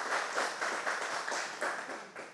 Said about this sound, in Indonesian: Tepuk tangan boleh semuanya sebelum kita mulai